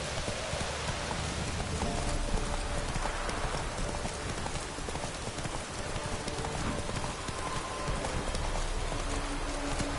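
A horse gallops in the Witcher 3 video game with rapid, steady clip-clop hoofbeats running continuously at moderate volume, accompanied by a faint rain-like hiss.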